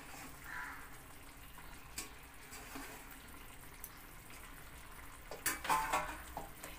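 Washed hinche (helencha) greens drop into a pan and are stirred, with soft scraping, a few sharp clinks and a brief burst of sizzling and clatter near the end, close and fairly quiet.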